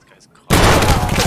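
A sudden loud burst of rapid gunfire in a shooter video game, bursting in after a near-silent moment and carrying on as a dense, continuous barrage; no voices are heard.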